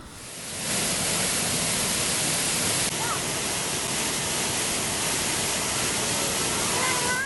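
The waterfall at the Kelingi River dam (Watervang), built in 1941 in Lubuk Linggau, roars as a dense, constant rush of falling water that swells in over the first second and then holds loud and steady throughout.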